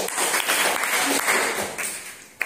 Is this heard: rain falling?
no